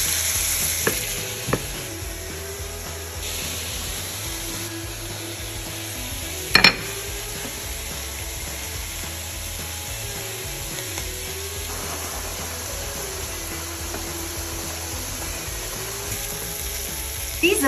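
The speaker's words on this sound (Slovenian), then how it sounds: "Medtem, ko se piščanče meso peče" Chicken meat sizzles and fries steadily in a pan, a continuous crackling hiss with a few sharp clinks of a utensil against the pan, no talking.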